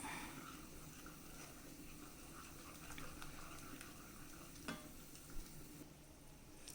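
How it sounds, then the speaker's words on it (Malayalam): Semolina rava upma cooks in a pan while it is stirred, giving a faint, steady soft sizzle with a few light scrapes and taps of the spoon near the end, with no talking. "ഇനി നമുക്കിതിനെ ഇളക്കി വേവിച്ചെടുക്കാം."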